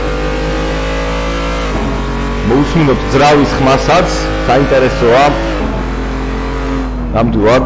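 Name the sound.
BMW race car engine in video game Assetto Corsa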